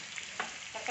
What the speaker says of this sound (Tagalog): prito lang muna natin yung carrots at saka patatas para mas madali siyang maluto